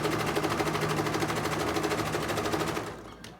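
Sewing machine stitching a fabric ladybug bag closed, a fast, steady mechanical rattle running close and loud for about three seconds before stopping abruptly.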